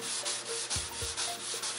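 Wet sanding a Mustang car part by hand with 600 grit paper, a close rhythmic rubbing of repeated strokes with faint squeaky scrapes, heard alone.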